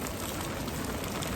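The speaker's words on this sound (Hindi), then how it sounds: "अभी ना बारिश हो गई है बहुत तेज़" Heavy rain pours steadily in a Melbourne laneway, a dense, even hiss with no breaks and no voices over it.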